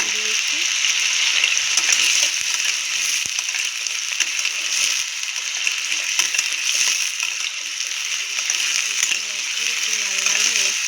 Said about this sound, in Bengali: আমি আলুটা আগে তেলটা গরম হলে দিই